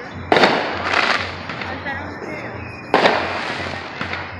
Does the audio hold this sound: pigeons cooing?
no